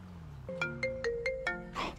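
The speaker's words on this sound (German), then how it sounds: "Oh, Telefon." A mobile phone ringtone in the video game GTA V plays a bright electronic melody of short, evenly spaced repeating notes, loud and clear over a low game hum, then ends in a brief noisy burst.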